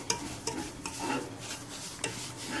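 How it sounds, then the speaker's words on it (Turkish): Semolina dry-roasting in a pan for Turkish irmik helva with a pinch of cinnamon, close scraping stir strokes repeating every half second or so over a soft continuous sizzle. "Bunu böyle kahverengileşmeye başlayıncaya kadar kavuruyorum"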